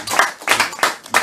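Clapping for a donor from a small group: four short, distinct bursts of hand claps in quick succession, close and moderately loud.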